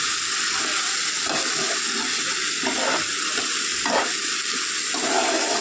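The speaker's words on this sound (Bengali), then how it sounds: "1 মিনিট সময় দিয়ে ডালটা আমি নেড়ে চেড়ে একটু ভেজে নেব।" Lentils (dal) fry in a hot pan for dal chachori, a steady loud sizzle broken by several scraping stirs of a spatula, close and without speech.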